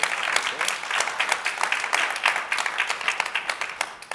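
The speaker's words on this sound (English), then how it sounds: "everyone give a warm round of applause for Nora and Sandy." Warm audience applause at a startup panel event, many hands clapping briskly and steadily for around four seconds with individual claps audible in the mix.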